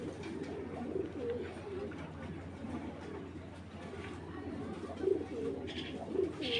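A male checker python pigeon coos in soft repeated bursts at moderate distance, with low background hum and a few faint chirps around it.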